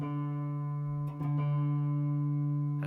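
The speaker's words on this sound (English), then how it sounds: "Now I'm listening to those beats as they get slower." Two guitar strings ring together while being tuned by ear, giving a steady, sustained droning chord at low volume with a short disturbance partway through and no voice.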